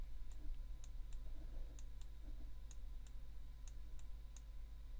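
A computer mouse and keyboard click sharply at irregular intervals while a picture is edited, roughly a dozen faint close clicks over a steady low background hum, with no talk.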